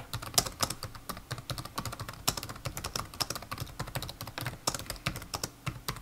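Steady, close keyboard typing during a French consumer-survey roleplay, a continuous run of soft rapid key clacks with no pauses.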